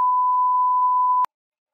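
A dying phone gives one steady, clear electronic beep lasting just over a second, then stops abruptly with a click into silence.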